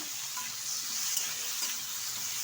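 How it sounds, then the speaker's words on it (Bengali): Eggplant pieces with turmeric fry in hot oil, giving a continuous, close, even sizzle with no talking. "দিয়ে দিচ্ছি টুকরো করে রাখা বেগুন, ভালো করে ধুয়ে পরিষ্কার করে নিয়েছি। বেগুনটা ভালোভাবে ভেজে নেব।"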